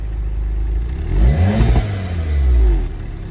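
A Golf 7R with a Stage 1 tune revs hard nearby, the engine rising and falling twice in quick succession with a throaty exhaust and faint crackling pops, with no voices.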